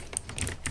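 Computer keyboard clicked in quick, light keystrokes, a few short taps close by and fairly quiet.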